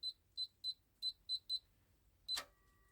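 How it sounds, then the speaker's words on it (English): A Bloomsbury/Technomax safe keypad gives six short, evenly spaced high beeps as the code is entered, then a final beep as it opens, followed by a faint click and ring, in a quiet room. "you hear that beep."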